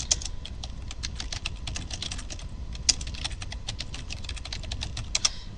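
Fingers type a search into Google on a computer keyboard, a steady close run of quick key clicks with a few louder taps, no voices.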